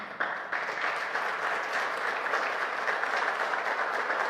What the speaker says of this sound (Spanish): Puedes darle un aplauso fuerte al Rey.